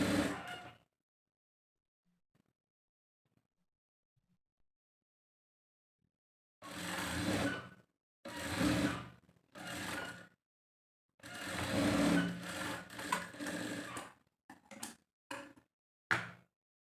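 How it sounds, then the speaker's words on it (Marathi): Sewing machine stitching sharara pant fabric pieces for a young girl's outfit, in several short bursts of whirring separated by pauses and near-silence, close and moderately loud. "अशा प्रकारे मी सर्व पार्टला येथे स्टिच करून घेत आहे."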